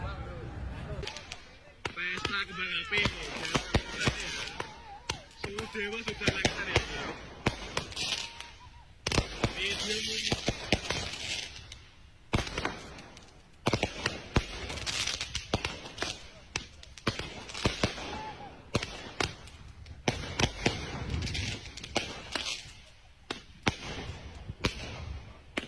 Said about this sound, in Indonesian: Pesta kembang api Bolong.